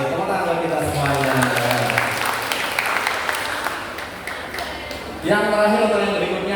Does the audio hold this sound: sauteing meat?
no